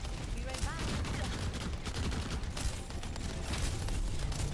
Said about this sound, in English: I'm just gonna keep fucking firing, honestly.